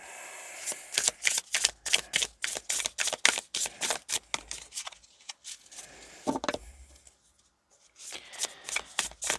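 Cards riffle and shuffle in quick repeated bursts of crisp flapping and snapping, close up, with a brief pause before a final flurry.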